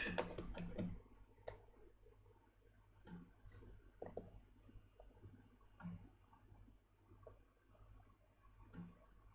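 An Amiga computer's floppy drive clicks steadily while loading a coverdisk, a run of small repeated ticks and clacks at close range over a low steady hum, with faint talk now and then.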